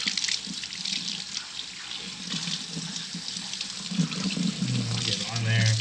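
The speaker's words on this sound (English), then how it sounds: "So we're just going to rinse this off." Tap water runs steadily over a lingcod, rinsing the slime coat off the fish at a sink, a continuous splashing hiss with a few louder gushes near the end.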